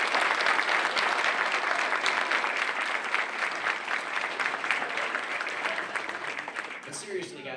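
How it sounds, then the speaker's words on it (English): An audience at a drag racing industry event claps, a dense, loud burst of applause from a large room that slowly thins and fades toward the end. "let's give a round of applause to the parents that support these young men and women"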